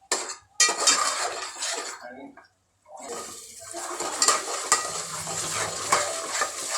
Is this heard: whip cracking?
no